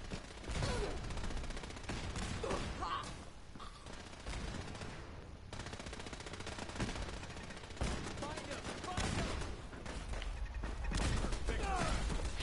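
Automated turrets in Fallout 4 firing bursts of gunfire, loud and near, in repeated rapid volleys across the whole stretch with short gaps, and a voice talking underneath.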